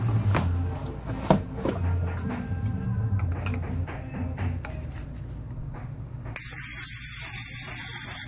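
Water spraying out while a restaurant water heater pump is bled, a rough steady hiss that turns louder and brighter toward the end, with faint clatter and ambient noise beneath.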